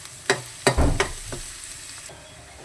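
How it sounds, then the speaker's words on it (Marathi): Chopped onion and garlic fry in a pan, with a few sharp spatula clacks and stirring scrapes over a low, steady sizzle; no talking. "कांदा टाकून नंतर कलर चेंज झाल्यापर्यंत फ्राय करायचं"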